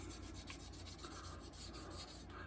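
Wet sanding of a model car's painted surface with a Trizact 5000 pad, a soft, continuous rubbing rasp with steady strokes, faint and close, with no talking.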